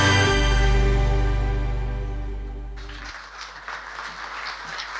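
At the official opening of an annual general meeting, a low sustained drone fades out and gives way to a spread of audience clapping that carries on steadily at a moderate distance.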